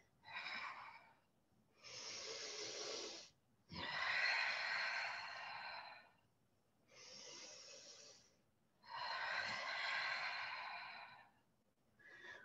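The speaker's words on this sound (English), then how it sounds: "I want you to have an emphasis on the exhalation here so that you make a lot of space for" Slow deep breathing, alternating long breaths with strong, drawn-out airy exhales, about five or six breaths separated by short pauses, close and quiet with no talking.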